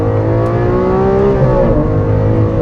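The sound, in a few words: Lamborghini Aventador 6.5 liter V12 engine revving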